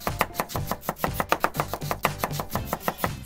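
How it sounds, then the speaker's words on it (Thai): A knife chops a banana on a cutting board in preparation for a fruit cake, with quick, even, close-up taps at about four strokes per second and no talking. "แม่ก็จะหั่นกล้วยก่อนเลยนะ"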